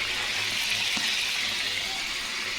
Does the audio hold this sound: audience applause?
no